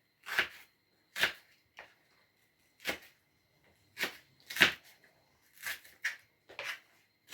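Onion being chopped into not-too-small pieces on a board, a series of separate knife strikes at an uneven pace, close up and fairly quiet, with short gaps of silence between cuts.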